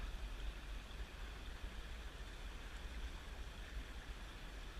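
Creek water flowing steadily in a wooded ravine, a constant broadband rush with low rumble, fairly close and unbroken throughout.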